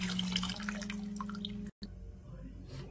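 Water pours into dal in a pot for rasam, a soft trickling and dripping splash that is fairly faint, with a steady low hum behind it.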